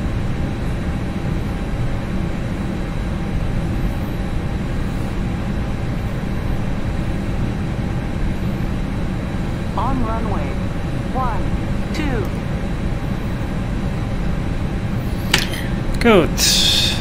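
An Airbus A320's engines roar steadily and loudly through a simulated takeoff roll. Brief voices chirp faintly over the broadband drone near the end.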